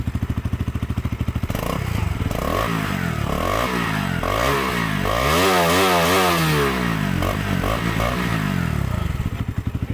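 A KTM Duke 200 single-cylinder motorcycle engine idles with a loud, throbbing chug, then revs hard in repeated sweeping surges that drop sharply back, recorded close with no talk.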